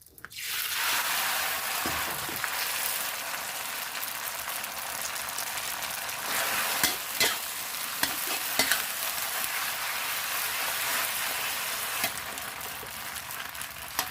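Wide rice noodles stir-frying in hot oil, a constant loud sizzle with intermittent scraping and tossing clatters, close up, no speech.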